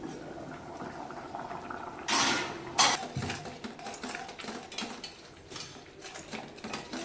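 Water bubbles at a steady boil in a pot on a stove, ready for chicken to be added for a spicy chicken fry, with a couple of louder splashing bursts and faint clinks partway through.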